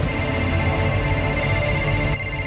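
A telephone rings with a steady, continuous electronic tone, close and fairly loud, for a couple of seconds with no talk.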